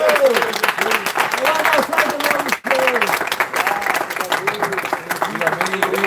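At a church service, a congregation welcomes the preacher with sustained rhythmic applause, steady and loud, while a voice keeps speaking and singing over the clapping throughout.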